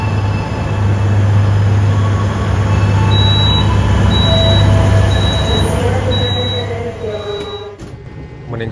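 The Lodaya executive passenger train rumbles steadily along the tracks from Yogyakarta toward Bandung, a low continuous roar with faint wheel squeals and beeps, heard from inside a carriage.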